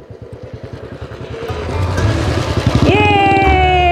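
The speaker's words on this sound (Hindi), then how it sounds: "बाइक लेके आ रहा है" Motorcycle arriving on a mountain road trip in the Spiti region near Kaza, its engine putting rhythmically up close and rising in pitch and loudness as it revs, with a high whine joining near the end.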